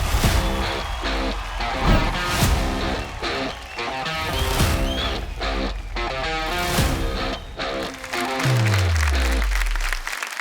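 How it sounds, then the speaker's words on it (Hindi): Studio audience on a folk singing TV reality show applauding loudly as a guest actor is welcomed, dense clapping over stage music with a descending low sweep near the end. "जोरदार तालियों से स्वागत कीजिए लेडीज एंड जेंटलमैन"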